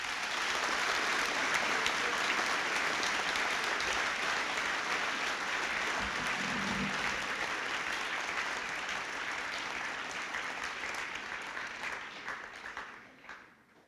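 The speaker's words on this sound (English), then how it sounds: "We got to give Joe Sens a big round of applause." A large audience at a high school Friday assembly for a Distinguished Alumni Hall of Fame breaks into sustained, dense applause, loud and steady throughout before tapering off at the very end.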